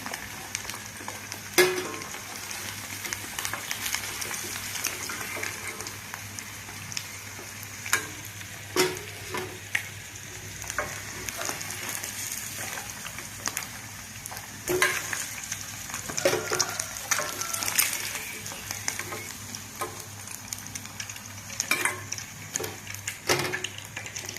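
Eggs frying in a pan for a ridge gourd and dried prawn egg curry, with a continuous sizzle under repeated sharp scrapes and taps of a spoon stirring against the pan, close and alone.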